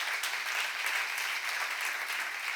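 Dense, steady applause from a church seminar audience fills the clip, a continuous wash of many hands clapping at even loudness throughout.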